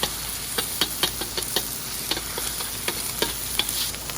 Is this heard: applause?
no